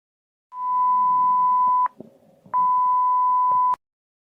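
An emergency alert tone sounds as two long, loud, steady beeps separated by a brief gap, clean and electronic with quiet background between them.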